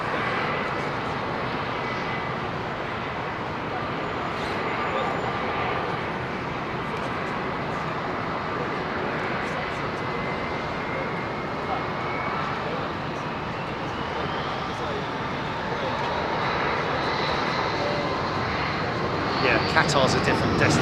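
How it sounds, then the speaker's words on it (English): Propeller aircraft engines at London Heathrow Airport produce a continuous droning roar, fairly close and even, with a rising whine building toward the end as the aircraft moves. "the sound of those props always makes me think of air shows"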